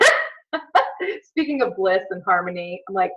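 Dogs barking indoors in a house, several sharp barks and yips mixed in and overlapping with someone talking close to the microphone.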